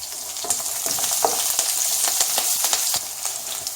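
Green chillies go into hot oil with garlic and cumin, giving a loud, continuous sizzle with crackling pops and stirring scrapes, close up and with no voice.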